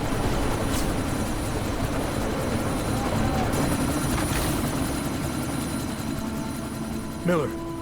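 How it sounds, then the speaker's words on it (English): Helicopter in the action game Deus Ex: Mankind Divided, a loud steady rotor drone filling the scene from start to end, with a brief whine and a thump near the close. "you need to disable that chopper"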